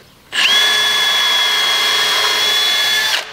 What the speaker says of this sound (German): Schrauben wir das da gleich auf.